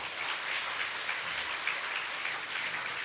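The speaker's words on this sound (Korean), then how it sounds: "우리 큰 박수 다시 한번 부탁드립니다" A church congregation applauding after a thank-you for an anniversary book's editors, a steady even wash of many hands clapping, sustained and moderately loud for the whole stretch.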